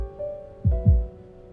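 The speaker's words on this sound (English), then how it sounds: "can you hear my heartbeat?" Heartbeat sound effect in a video game, two deep, close thumps in a quick lub-dub pair over a soft sustained musical tone.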